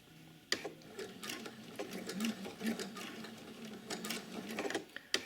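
A sewing machine stitches a welt pocket on a coat in short rapid bursts of mechanical clatter, close and fairly quiet, with brief pauses and sharp clicks between runs.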